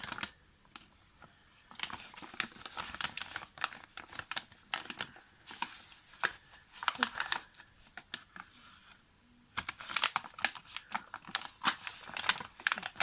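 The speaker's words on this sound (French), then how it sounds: "je déchire en plus avec mes mains délicates" Paper torn by hand while assembling a butterfly-themed scrapbook invitation card, heard as bursts of dry ripping and rustling crinkles scattered across the stretch, close and fairly quiet, with no talking.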